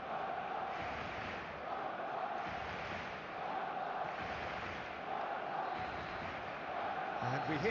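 A steady, continuous crowd roar in an eFootball match, even and sustained throughout with a broad wash of cheering, fairly faint overall.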